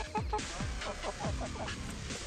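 Chickens clucking inside a coop on a chicken farm on Cape Breton Island, a run of short, close, descending squawks and clucks repeating in quick succession over a steady background.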